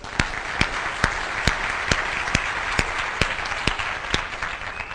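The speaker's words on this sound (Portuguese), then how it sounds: "Palmas para o Gilberto, pessoal." Audience applause at a keynote talk, a dense steady wash of clapping from a crowd, with a few sharper nearby claps standing out at a fairly regular pace, no voices on top.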